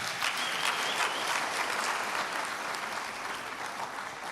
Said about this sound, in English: I think you should give her another round of applause